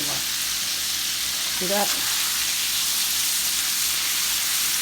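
Chicken wings sizzle and fry in hot grease in a cast iron skillet, a steady dense crackling hiss close up, with a brief spoken remark partway through.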